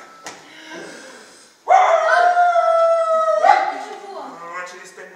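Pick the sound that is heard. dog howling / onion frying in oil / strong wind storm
dog howling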